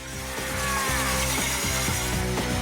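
A loud, steady power drill whine with rapid rhythmic grinding pulses as the drill bores into window glass, continuous and close throughout.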